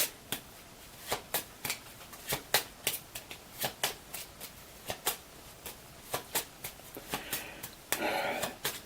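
Cards from Transformers: The Deck-Building Game being shuffled by hand, a quick run of crisp riffling snaps repeating steadily for nearly nine seconds, close and loud, ending in a denser burst of flutter.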